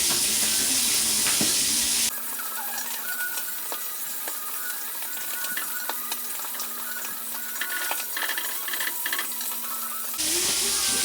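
Food fries in hot oil in a home kitchen, a close, steady hiss and crackle that turns quieter and thinner midway, then returns louder toward the end, with no talk.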